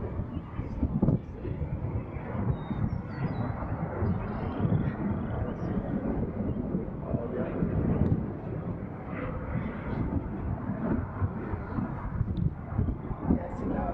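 A Freewing twin 64mm EDF F-14 RC jet flies with a continuous whooshing ducted-fan roar that rises and falls as it passes, and someone talks over it.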